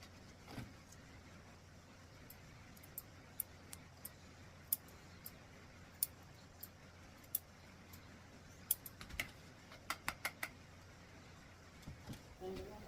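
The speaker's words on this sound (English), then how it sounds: "I'm just trimming up his ears with my slightly curved scissors" Sharp, irregular metallic snips from slightly curved scissors trimming a poodle's ear fur close by, scattered in short bursts over a steady low rumble of a running engine or motor.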